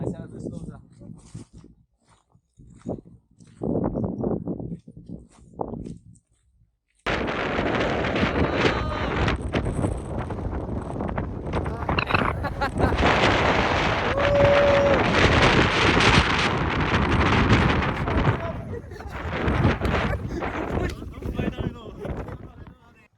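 Strong wind buffets the microphone on the rocky, cold summit of Mount Fuji, a loud continuous roar after a few quieter seconds of light gusts, with people talking under the noise.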